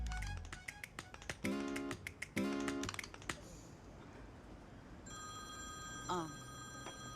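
A telephone rings for a work call in a film scene: several sharp taps and snaps come first, then a steady electronic ringtone sounds near the end over quiet room tone.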